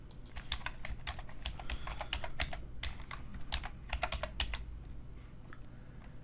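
Quick, continuous typing on a computer keyboard while writing CSS code in a browser inspector, with close, crisp key clicks in irregular bursts and no voice.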